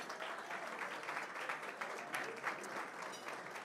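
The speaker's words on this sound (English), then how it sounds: "How about a nice round of applause for all of those sponsors, okay?" Audience applause at a charity auction for the sponsors, a steady dense wash of many hands clapping throughout, fairly faint and distant.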